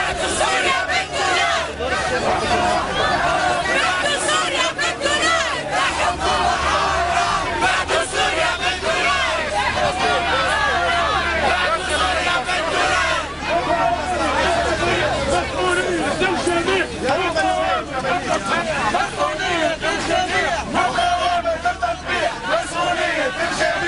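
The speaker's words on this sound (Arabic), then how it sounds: "هذا الفيديو وفيه هتافات لسوريا من أمام المجلس التأسيسي في تونس" A large crowd chants and shouts for Syria outside Tunisia's Constituent Assembly, with dense, continuous rhythmic yelling and babble that stays loud and close throughout.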